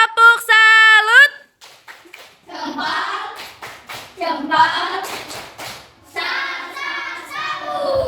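Students in an Indonesian classroom perform a rhythmic salute clap, with patterned hand claps mixed with chanted young voices in short, bright bursts.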